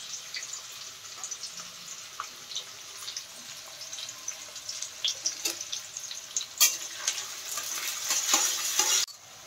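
Onions frying in a pan make a faint, uneven sizzle that grows busier toward the end, with scattered utensil clicks and stirring noises and no talking.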